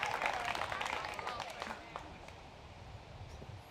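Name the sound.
spectators clapping at a disc golf hole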